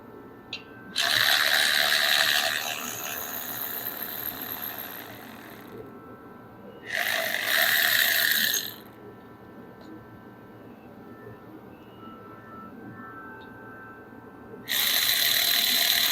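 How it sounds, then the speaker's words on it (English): A hand ratchet clicks rapidly while turning stainless bolts out of an aluminum 3V Mustang engine, three bursts of close, bright ratcheting separated by quiet pauses in a garage. "I don't do this with an impact. I do it with ratchets"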